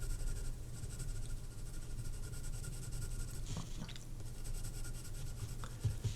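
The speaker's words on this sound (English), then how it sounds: "you can hear the pencil just going backwards and forwards" A pencil shades tone on paper for a portrait drawing, quick back-and-forth strokes making a steady, close scratching rasp that continues throughout with a few sharper scrapes.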